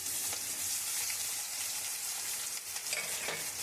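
Raw onion frying in oil in a pan with bay leaves and chillies, a loud, dense sizzle filling the space while a spatula stirs through it with faint scraping strokes, up close and without talk.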